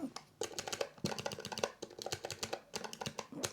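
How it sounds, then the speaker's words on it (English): Two arcade joysticks, a classic Competition Pro and a modern ArcadeR, have their buttons pressed rapidly, making dense, sharp clicky bursts in quick uneven clusters, close-up and fairly loud. "They are more clicky and they make more noise."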